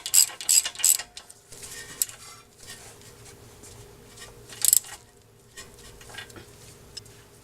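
A ratchet wrench clicks in quick bursts while a bolt on a 2014 Honda Odyssey CV axle is tightened, with a couple of separate close metallic ratcheting runs and a quiet workshop hum between them.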